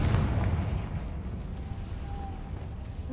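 A Confringo fire-spell explosion in the Hogwarts Legacy video game: a single soft, muffled blast at the start that decays into a low, rumbling tail, fairly faint overall.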